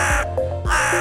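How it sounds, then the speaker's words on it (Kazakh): A crow caws twice, loud and near: two harsh, rasping calls separated by a short gap. "Қарға қарқылдайды."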